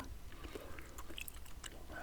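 PK chewing gum being chewed close to the mic in quick, wet, soft bites, with faint breathy whispering underneath.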